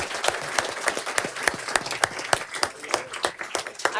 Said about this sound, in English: One more round of applause for the panelists.